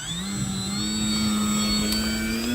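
An HK Durafly Tundra V2 radio-controlled plane's electric motor, running on a 3S battery, spools up for takeoff with a rising, whining pitch that then holds steady and fairly close, with no talk over it.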